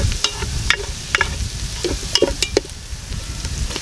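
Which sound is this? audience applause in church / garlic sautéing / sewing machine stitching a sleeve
garlic sautéing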